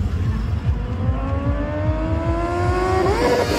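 Kawasaki Ninja H2 motorcycle engine revving up loud and close, a steady rumbling idle-like throb rising in pitch toward the end as the throttle opens, with faint voices in the background.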